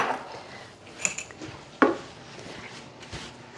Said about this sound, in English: do you want me to just give it a stir?